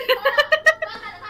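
A cat meows several times in a video game, Yan魇: Parasomnia, with short, close, voice-like cries in a quick series, sitting against a quiet background.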